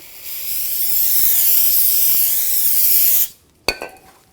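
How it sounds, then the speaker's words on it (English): Brake parts cleaner sprayed from an aerosol can onto a brake part during a front brake job on a 2007-2013 BMW X5, a loud, close, continuous hiss for about three seconds, then a sharp clack and a short second spurt. "use a little brake parts cleaner. Spray the backside,"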